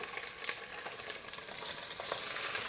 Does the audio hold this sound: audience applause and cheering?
no